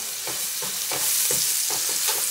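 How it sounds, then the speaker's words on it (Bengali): Chopped ginger, garlic and onion fry lightly in a pan with a steady broadband sizzle, punctuated by regular scraping stir strokes about every half second, close and fairly loud with no talking. "আদা রসুন এবং পেঁয়াজ কুচানোটা হালকা করে একটু ভেজে নিলাম"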